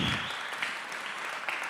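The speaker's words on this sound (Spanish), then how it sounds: "Un aplauso. Bravo," Audience applause at a Spanish-language journalism anniversary event, a dense steady patter of clapping that starts loud and settles into an even wash for the whole stretch, with no voices over it.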